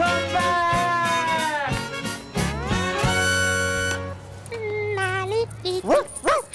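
A dog yelps and whimpers in a series of high, tonal, close barks that rise and fall, with voices and music around them.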